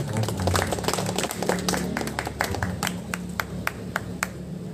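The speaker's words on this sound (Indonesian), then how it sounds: "Tepuk tangan" An audience at a Sundanese community gathering in Ciparay, Bandung claps loudly, a burst of many hands that thins into scattered, evenly spaced individual claps as it dies away.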